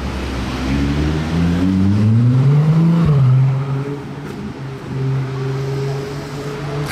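BMW M2 G87 M Performance car starting up, its engine note rising through a rev before dropping to a steady, loud idle burble, then briefly swelling again as it begins to pull away nearby.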